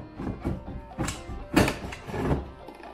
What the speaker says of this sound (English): I flipped this drawer over